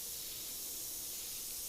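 A spray paint can sprays in one steady, unbroken hiss lasting under two seconds. It is fairly quiet and heard alone, with no talking.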